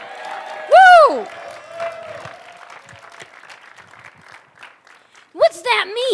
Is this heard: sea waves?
no